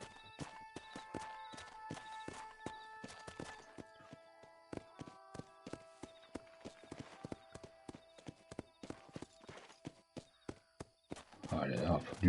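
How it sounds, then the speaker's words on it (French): A horse's hooves clip-clopping in the game Red Dead Redemption on PS5, a steady rhythmic run of crisp hoofbeats under game music, with a louder burst of noise at the end and a voice at times. "Oh, wow, wow, wow, doucement le cheval."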